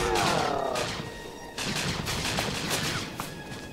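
Rapid gunfire from a Star Wars: The Old Republic battle, with dense, overlapping shots sustained throughout and a few sharper cracks standing out over a continuous rumble.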